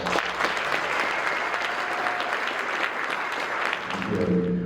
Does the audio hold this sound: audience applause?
yes